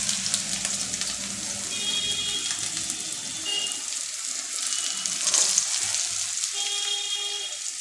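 Chopped pumpkin and green chillies fry in hot oil, giving a steady close hiss and crackle that runs the whole time, with an occasional soft stir or clatter.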